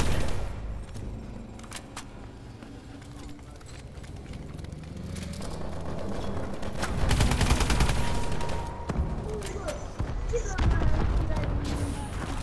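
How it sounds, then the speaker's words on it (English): Gunfire in the Call of Duty: Advanced Warfare video game, with bursts of shots that build in the second half, mixed with game sounds and people talking over it. "I shot you face to face."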